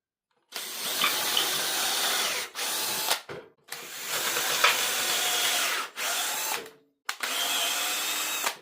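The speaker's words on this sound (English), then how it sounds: "pre-drilling them, and I can move my way along." A power drill pre-drills holes in ceiling boards, running in several loud, sustained whirring bursts of a few seconds each, separated by short pauses, close to the listener.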